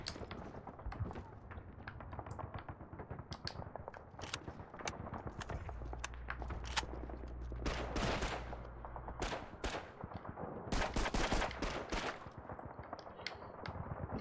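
Enemy gunfire in Call of Duty 2: Big Red One, a battlefield of scattered rifle cracks and rattling automatic bursts, some sharp and near, others distant, with a low rumble partway through and faint voices.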